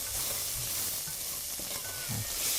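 Zucchini being stirred in a hot pan, with a constant sizzle and scraping stirs near at hand.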